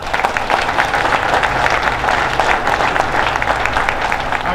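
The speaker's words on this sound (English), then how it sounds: "Give a nice round of applause for Populous" A crowd gathered outdoors at the Hodgetown baseball stadium ribbon cutting applauds the architecture firm Populous, a loud, full, sustained clapping that stays strong from start to finish.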